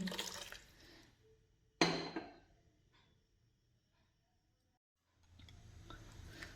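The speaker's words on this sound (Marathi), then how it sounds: "आता हेच मी कुकर धुवून डाळीचा त्यात पाणी घालते" Water poured into a washed pressure cooker holding lentils, heard as short, quiet splashing bursts separated by silence, with another stretch of pouring at the end.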